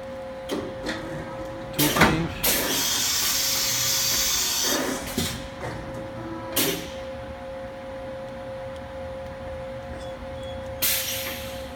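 A 2006 Fadal VMC 6030 CNC vertical machining center running through a spindle gear change: a steady tonal whine and hum, punctuated by several loud bursts of hissing rush and clunks.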